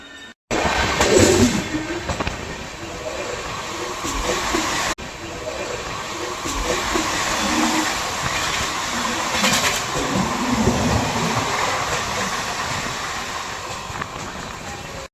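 Two express trains, the Sampoorna Kranti and the Shivganga, running side by side as one overtakes the other. A loud, steady rumble and hiss of rolling wheels fills about fifteen seconds, with a short break near the five-second mark.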